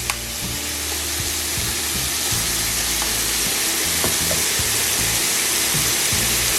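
Bistec taco meat sizzling loudly in a small, crowded old skillet, a constant close hiss of frying with scraping and clattering as it is stirred.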